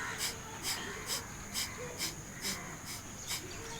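Kapalbhati yoga breathing, a steady series of about eight sharp, forceful nasal exhalations at an even pace of roughly two per second, close and distinct over faint background noise.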